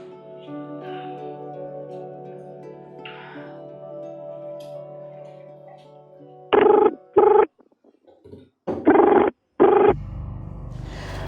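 A phone rings in repeated electronic bursts, tinny as if over a speaker, after a stretch of low droning background.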